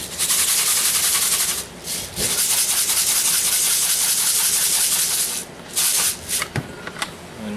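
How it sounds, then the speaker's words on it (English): Tannerite fuel powder and catalyst are mixed vigorously in a jar, making a steady, close gritty rushing rattle for about five seconds that then breaks into shorter shaking bursts. "We mix it vigorously so the fuel is covered by the catalyst,"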